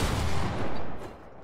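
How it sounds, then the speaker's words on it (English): Several overlapping gunshots crack at once in a Fortnite match, a dense burst of gunfire that fills the short stretch loudly and then thins out toward the end, with no talking. "Why did everyone just shoot at the same time?"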